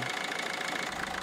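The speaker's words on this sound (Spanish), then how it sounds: "El motor cabecea" A Citroen C4 9YH engine idling roughly with unpaired injectors, a steady close drone with a faint uneven pulsing.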